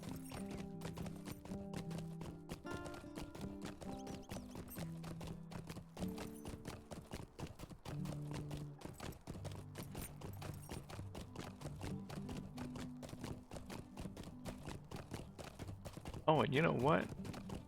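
Rhythmic clip-clop of a horse's hooves while riding in a Middle-earth video game, steady and continuous under game music, with someone talking over it briefly.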